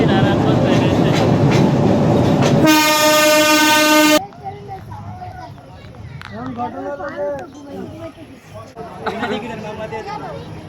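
A train at Narayanganj railway station sounds a long, loud horn blast over rumbling station noise, then the horn stops and nearby voices talk over a quieter background.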